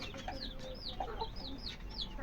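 Native chicks cluck and cheep during vaccination, a busy chorus of rising chirps and soft clucks close by over a low background hum.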